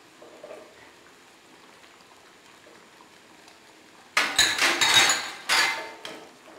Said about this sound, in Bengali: মাছের টুকরো গুলো দিয়ে দিই।